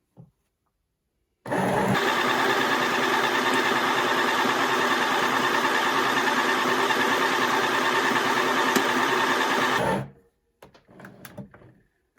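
A midi sewing machine driven by a foot pedal stitches a round cushion pad, giving one loud, steady motor whir for about eight seconds that stops abruptly and is followed by a few faint clunks.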